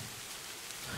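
Rain falls steadily in a soft, even wash of noise, faint and continuous across a brief stretch with no voices.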